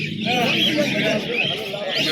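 Pigeons, including black Shiraz pigeons, cooing and fluttering up close at a bird market amid a busy murmur of bird calls, with a voice talking over them.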